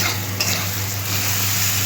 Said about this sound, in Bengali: পেঁয়াজটা একটু লাল লাল করে ভাজা হয়ে যাবে